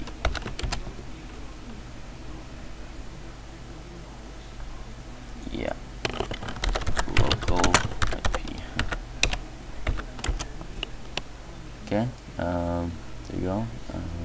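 Rapid clicking keystrokes on a computer keyboard while building a Visual Basic 2008 program, the typing coming in irregular bursts over a steady low hum, with a brief voice near the end.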